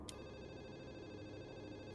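A telephone rings inside the Urban Runner video game, a faint electronic ring with a short sharp burst at the start over a low steady hum.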